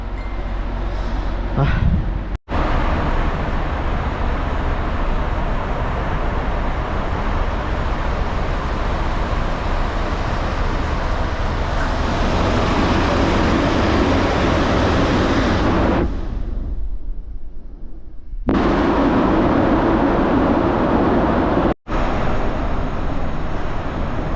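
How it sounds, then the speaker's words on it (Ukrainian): A vehicle rolls down from the upper deck of a ferry, heard from inside as a loud, continuous low engine and road rumble with brief dropouts and a quieter stretch near the end. "Випускаємо нас з парома уже."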